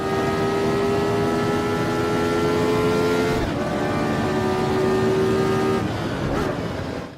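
Engine of a Formula Retro race car in the Automobilista sim at the Österreichring, a steady loud drone held at one pitch, then a brief dip as it shifts down and climbs back, close and continuous.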